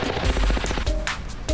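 Rapid automatic gunfire from a gun in the video game Ravenfield, a close, loud burst of quick repeated shots followed by a few separate heavier blasts.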